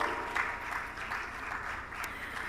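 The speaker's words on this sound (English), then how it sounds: "Please, let's give her a warm applause." Audience applauding at an Erasmus+ 2024 pre-departure orientation event, steady moderate clapping from a crowd throughout the short stretch.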